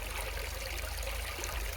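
Water of the Yao river flows steadily over an outdoor African river scene, a continuous broadband rush and trickle that stays even and fairly close throughout, with no voices.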